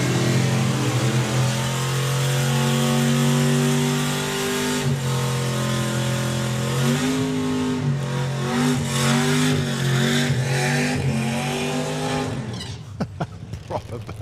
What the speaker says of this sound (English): I think that's a frustration burnout more than a performance related one.